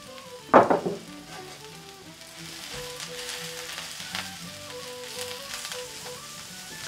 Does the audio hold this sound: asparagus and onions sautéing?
yes